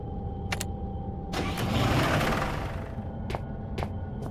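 A car engine in the horror video game Penumbra Necrologue cranks, catches briefly with a rough rising roar, then sputters and dies, with a few sharp clicks before and after.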